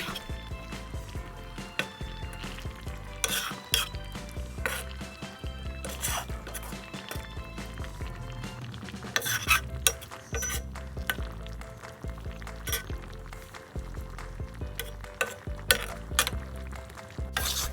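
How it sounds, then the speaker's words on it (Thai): Wax gourd pieces being stirred as they simmer down in thick sugar syrup, with repeated sharp clinks and scrapes of a utensil against the pan over a low bubbling sizzle, continuing unevenly throughout without talk. "เราจะเคี่ยวเขาต่อไปเรื่อยๆเลยค่ะ พยายามคนนะคะ"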